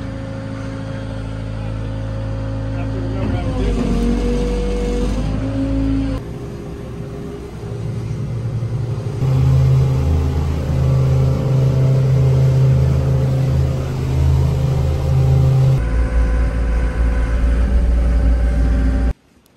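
A barge engine runs steadily while the boat is steered, a loud continuous low rumble that shifts in pitch and intensity as throttle changes, with no talking.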